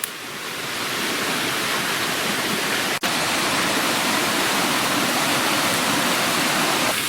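Water rushes down a wooden chute feeding a watermill in Pakistan, a loud, dense, steady roar that holds unbroken throughout, close up and with no voices.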